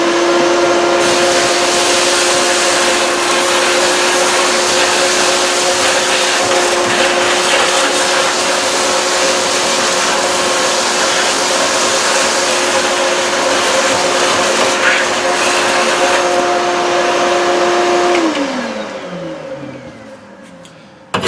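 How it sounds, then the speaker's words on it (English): Shop vac vacuuming debris out of a K4L drum cooker, a loud steady whining roar with a constant motor tone that runs for most of the clip, then winds down as the motor switches off. "So now we get to play with the shop vac."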